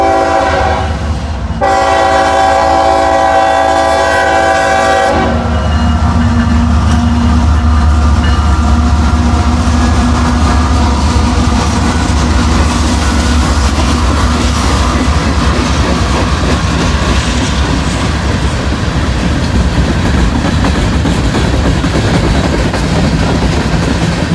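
A mixed manifest freight train rolls past at close range in Cowan, Tennessee, near Knoxville. A loud horn sounds at the start, followed by a long, steady rumble and clatter of wagons on the rails.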